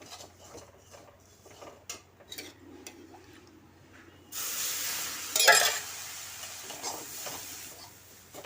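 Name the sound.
stirring milk into sweet pulao in a pan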